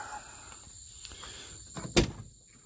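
A car door with a broken handle on an off-road car clunks once sharply, preceded by faint rattling and scraping of the door mechanism, fairly close and alone without talk.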